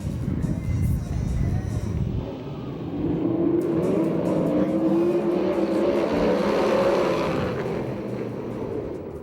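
USAC/CRA sprint cars racing in a heat race at Perris, a loud, continuous roar of engines that swells and sweeps past, with a rising pitched whine in the middle.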